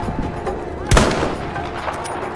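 A single loud gunshot boom from Battlefield 5 gameplay rings out amid a low rumbling battlefield bed with faint lighter shots.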